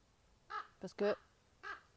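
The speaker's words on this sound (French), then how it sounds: "Et encore une fois, un corbeau" A crow caws outdoors, a few harsh calls spaced out over two seconds, clear and fairly close.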